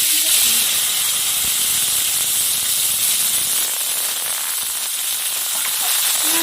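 Chopped onion fries with whole cumin in mustard oil in a kadai, giving a loud, steady hissing sizzle close by that eases slightly toward the end.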